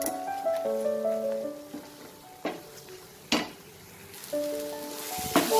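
Masala spices sautéing in oil, a soft sizzle with occasional utensil clinks and scrapes against the pan, accompanied by faint tonal background music, with no talk.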